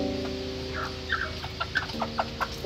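Native chickens, a rooster and hens, cluck in short repeated calls close by, a steady low hum running underneath throughout.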